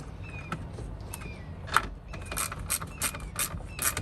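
A ratchet tightening tow mirror bolts on a 2001 Chevrolet Suburban gives quick close clicking bursts in short repeated runs, with a sharp metallic tap midway.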